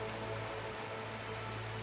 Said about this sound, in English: an interesting attempt at a stormy rain, which works quite well when you're not looking directly at the rain